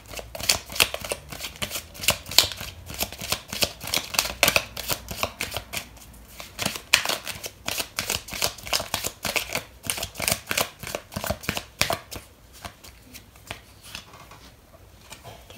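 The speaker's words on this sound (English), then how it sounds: "I'm going to pull out another card for you" Tarot cards are shuffled and drawn during a love reading. Rapid, rhythmic riffling clicks run close and loud for most of the clip, then thin out toward the end. No one speaks.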